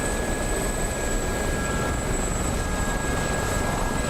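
Mi-24 helicopter in a combat flight simulator, a steady broadband rotor and turbine roar that holds constant throughout, loud and close with no talk over it.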